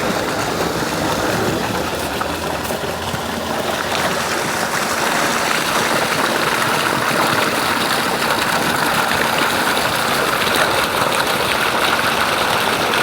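A five-horsepower sump water pump motor runs steadily with a constant mechanical drone and the rush of flowing water, unbroken and fairly loud throughout.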